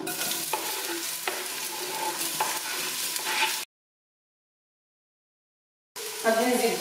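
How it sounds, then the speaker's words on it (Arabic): A medium chopped onion fries in a pan with a continuous crackling sizzle and scraping stirring strokes, close and loud, broken by a stretch of dead silence before the sizzling resumes with a spatter of pops. "غادي نزيد واحد البصله اللي قطعتها، بصله متوسطه هانتوما"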